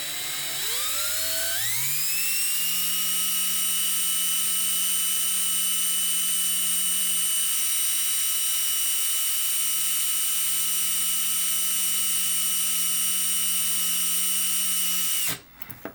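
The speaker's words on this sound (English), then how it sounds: "Maybe I could use my fine sanding disc." A small rotary tool with a fine sanding disc polishes a model ship part, spinning up with a rising whine and then holding a loud, steady high-pitched drone close to the microphone before cutting off abruptly.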